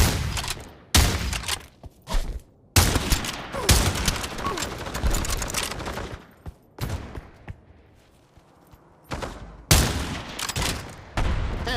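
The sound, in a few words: rocket launcher fire in a video game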